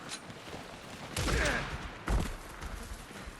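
Gunfire in Alan Wake 2 lands as two sharp broadband bursts about a second apart over a steady noisy game background, fairly close and loud.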